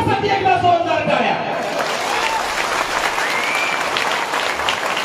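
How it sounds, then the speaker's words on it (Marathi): A large rally crowd bursts into loud applause, with a voice over a loudspeaker at the start, then sustained clapping that continues to the end. "एकदा प्रत्येकाने स्वतःसाठी एकदा जोरदार टाळ्या."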